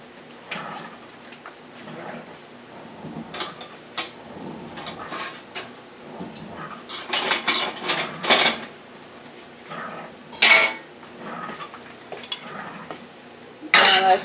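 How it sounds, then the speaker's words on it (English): Utensil scraping and clinking against a pan while stirring a seafood ramen noodle stir fry with vegetables and sweet teriyaki sauce, irregular clattery strokes, some louder, over low kitchen background. "Now let's just mix this up like a stir fry."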